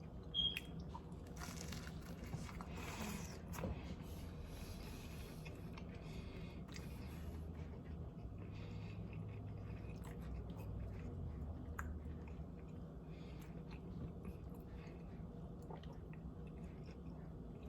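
Close, quiet crunching and chewing of a Taco Bell Chalupa Supreme, with a few crisp bites early on that settle into softer, steady mouth sounds.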